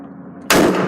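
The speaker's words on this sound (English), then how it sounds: "Shoot him in the head. I will." A single loud gunshot at a shooting range, a sudden close blast after a moment of quiet background hum, with its roar lingering briefly.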